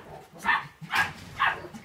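A dog at a kennel yard gives three sharp, evenly spaced barks at close range, each a short, bright yelp with quiet pauses between.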